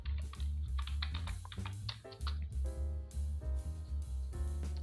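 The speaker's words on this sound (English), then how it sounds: "let's type this text as options" Rapid clicking keystrokes on a computer keyboard while text is typed, close and fairly quiet, with a steady low electrical hum underneath and no talk.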